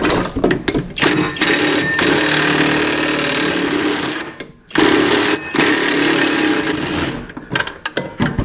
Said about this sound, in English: Trying to cut that bolt off right there.